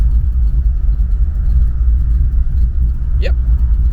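A 1959 Chevy with a Tri Power carburetor setup idles steadily with a loud, low, slightly rough rumble throughout, and a brief higher-pitched squeak or chirp cuts in near the end.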